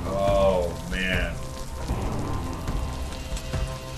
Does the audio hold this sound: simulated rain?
yes